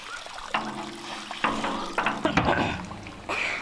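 Water pours and splashes as it drains out of a helmet during a caravan houseboat challenge, a steady trickling wash with several sharper sloshing bursts, close by with no talk.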